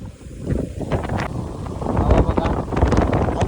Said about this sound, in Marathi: आणि वारा लागतो